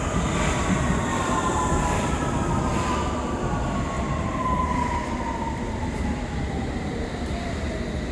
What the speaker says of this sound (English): I was waiting for 10 minutes straight basically until the next train arrived.